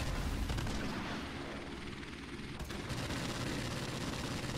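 Gunfire in Modern Warfare Remastered Domination, with bullets shot through walls: rapid bursts of shots and rumbling combat noise, fairly faint and muffled, running continuously under a droning aircraft-like hum.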